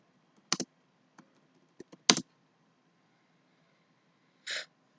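Sparse, sharp key clicks from a computer keyboard while a registration form is filled in, a few isolated taps and short double clicks spread out with pauses, close and distinct.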